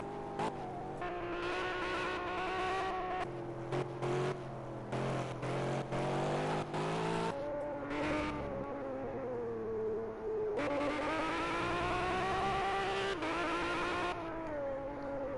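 Race cars in lap traffic in a PS4 racing game drone with layered whining engines that shift pitch as they pass one another, steady and moderately loud throughout.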